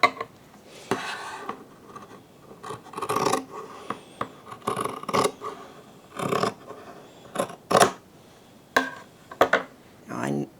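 Scissors trim the fabric of a trouser pocket in short, close snips and rustles, with pauses between scattered cuts.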